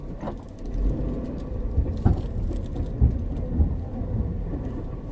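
Clunking from a car's differential during street driving, heard as several dull thumps at irregular intervals over a steady low road rumble inside the vehicle.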